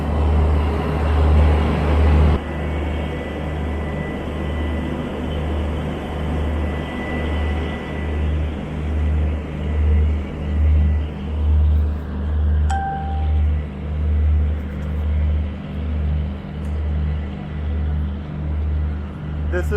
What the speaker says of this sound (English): The front EOG is running, so there's a lot of sound from here.